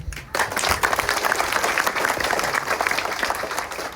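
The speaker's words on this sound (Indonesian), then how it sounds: "Tapi kita beri aplaus untuk Pak Sekda" An audience at a village gathering in Terpones breaks into sustained applause for the regional secretary, with dense, steady clapping from a crowd that holds for several seconds.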